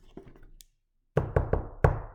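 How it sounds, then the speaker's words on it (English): Knocking on a kitchen door: a fast rat-a-tat-tat of four sharp, close knocks after a short silence, preceded by faint softer taps. "a rat-a-tat-tat on the kitchen door."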